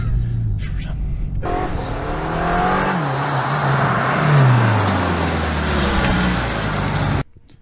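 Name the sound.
BMW XM V8 hybrid car driving on winding roads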